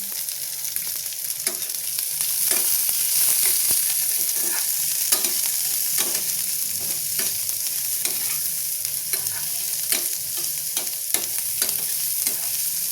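Onions fry in a pan with a loud, continuous hissing sizzle, broken by regular soft taps and scrapes of a spatula stirring throughout.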